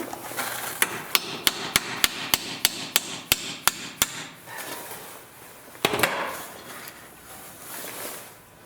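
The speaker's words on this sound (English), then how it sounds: "So I'm just going to tap these bolts out here, and there's another one there." A hammer taps bolts out of the front axle assembly of a Subaru Outback: about ten sharp, evenly spaced metallic knocks close by, then a pause, one more strike and some faint rustling, with no one speaking.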